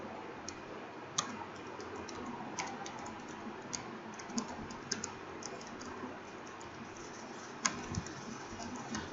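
Typing PHP code for a student management system on a computer keyboard, with quiet, irregular key clicks and a few sharper taps over a faint background hum, and no speech.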